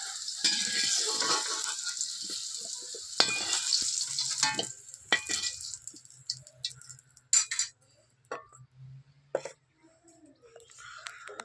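Potatoes with turmeric frying in a pan for a village-style chicken dish, with a close sizzle and stirring scrapes. The sizzle fades into sparse clatter, and a brief cough is heard.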